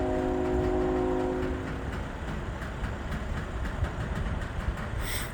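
A Norfolk Southern freight train on the NS line north of Findlay, Ohio sounds a drawn-out horn blast as it approaches, followed by a steady rumble and wheel clatter as it draws nearer, with no talk.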